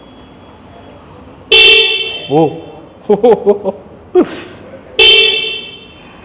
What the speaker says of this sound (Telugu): ఇక్కడ హారన్ చెక్ చేద్దాం ఒకసారి